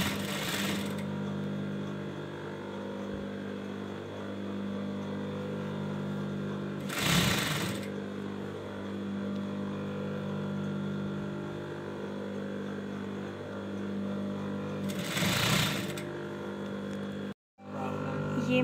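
A sewing machine stitching a frill onto a baby girl's frock runs with a steady, close mechanical hum, broken by brief louder bursts every few seconds and a short stop near the end.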